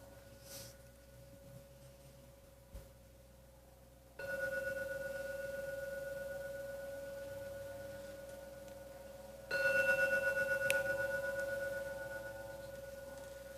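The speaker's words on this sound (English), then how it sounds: "When the gong finishes sounding for the 3rd time, you may open your eyes" A meditation gong is struck twice, each time a sudden clear tone that rings on and slowly fades, the second strike a little brighter, with near silence beforehand and a small knock early on.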